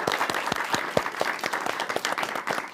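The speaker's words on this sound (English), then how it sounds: "round of applause for these two" Audience applause fills the room at a talk event, a steady dense clapping crowd heard close and continuous throughout, with no voices over it.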